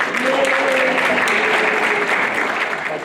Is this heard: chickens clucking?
no